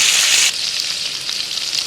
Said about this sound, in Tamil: வெண்டைக்காயை சட்டியில் கொட்டி வச்சு அது நல்லா வதங்கட்டும்